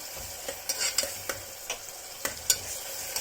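Tomatoes cooking in a pan for dal tadka, a soft simmering sizzle broken by a series of brief scraping stirs from a utensil, close and fairly quiet with no talk.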